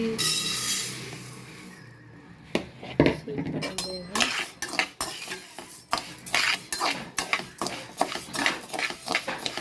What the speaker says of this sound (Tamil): இப்போ நம்ம இதை ஃப்ரை பண்ணிடலாம், வறுத்துடலாம்.